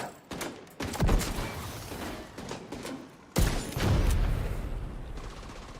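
Bursts of LMG machine-gun fire in The Division 2, two dense volleys of rapid gunshots with sharp onsets, loud and close, separated by a brief lull.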